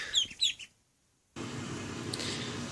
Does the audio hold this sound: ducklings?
yes